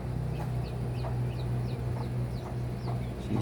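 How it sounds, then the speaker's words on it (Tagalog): Native chickens cluck and chirp repeatedly over a steady farmyard hum, with soft overlapping calls close by. "Dito sa loob. Mga native chicken."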